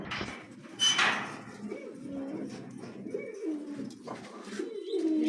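Pigeons cooing softly in a series of low, warbling calls, with a brief clatter near the start and faint background noise.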